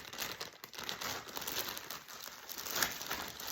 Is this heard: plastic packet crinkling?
yes